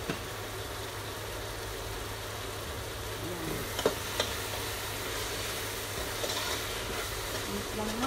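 A spoon stirs a pot of goat curry (laham salona) with bay leaves and cardamom pods, giving a steady low sizzle with a few faint scrapes and knocks against the pot.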